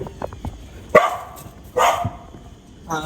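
A dog gives three sharp, fairly close barks spaced about a second apart against quiet outdoor background.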